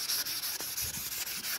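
Sandpaper of 280 grit rubbing across car bodywork during smash repair prep, a steady close scratchy hiss in repeated back-and-forth strokes with brief dips between passes, no talking.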